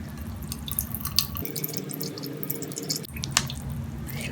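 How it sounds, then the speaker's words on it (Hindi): Washed minced meat (keema) is squeezed by hand over a bowl, with soft squishing and wet dripping as the water runs out, in quiet, close, irregular bursts and no talk. "हम इसको दबा के निकाल देंगे इसका पानी।"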